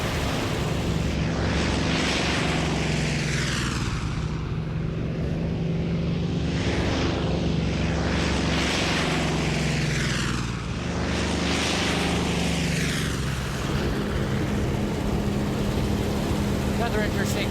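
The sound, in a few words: Grumman TBM Avenger warbird propeller aircraft flying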